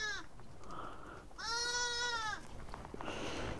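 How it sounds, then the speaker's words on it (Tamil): A young goat bleats in three wavering, nasal calls with pauses between, close and clear over faint outdoor background. "மேலே ஹைட்டில் கூடார மாதிரி கட்டி இது உள்ள குட்டி ஆடு போட்டு வச்சுருக்காங்க"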